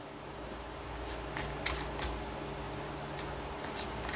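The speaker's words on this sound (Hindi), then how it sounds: "अब आपके लिए कार्ड निकालते हैं हम।" Playing cards shuffled and drawn from a deck, a steady run of soft riffling and papery flicks with several sharper snaps, close and fairly quiet with no talking.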